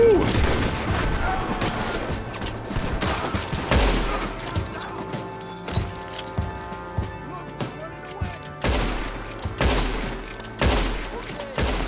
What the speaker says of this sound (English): Shoot him in the legs, man.